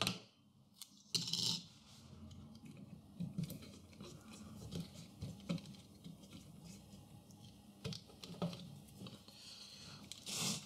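Adhesive tape is pulled, torn and pressed over the wiring connections of a Roco ET85 model electric locomotive being fitted with an ESU LokSound 5 decoder; quiet, close rasps and crackles with short pauses between.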